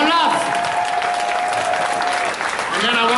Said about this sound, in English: Please, a round of applause for the legendary Roland Joffe.